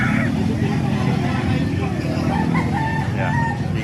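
A 10-month-old red kelso gamefowl rooster crows amid other fowl, with crowd babble and traffic noise throughout.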